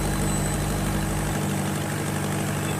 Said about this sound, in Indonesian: Nah ini mesin pertama ini.